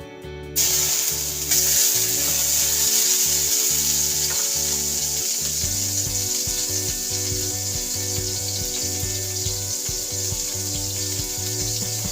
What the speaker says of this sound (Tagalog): magigisa na ako ng aking butchoy